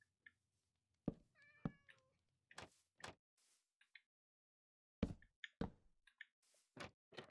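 A cat meows a few times, in a Minecraft-style game while sheep and villagers are being bred. The short meows sit alongside sharp clicking and block-placing taps, with quiet gaps between the bursts.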